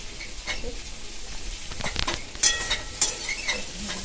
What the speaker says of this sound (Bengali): তারপরে আবার থালা খুলে আমি আবার নেড়ে চেড়ে নেব